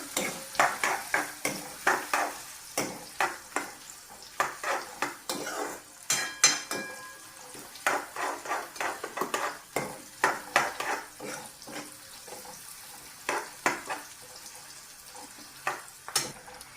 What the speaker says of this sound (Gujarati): અને આપણી ડુંગળી બ્રાઉન કલરની થાય ત્યાં સુધી આપણે એને તળવા દેવાની છે